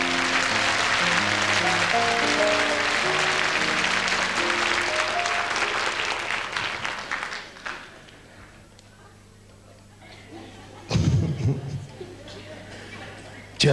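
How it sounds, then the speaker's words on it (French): Studio audience applause on a French children's television show, broad and sustained clapping over music for about seven seconds before fading, followed by quieter room sound with a brief burst of noise near the end. "On applaudit très fort, Sarah."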